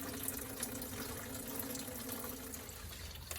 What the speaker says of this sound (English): Once you've let the majority of the coolant escape from the tank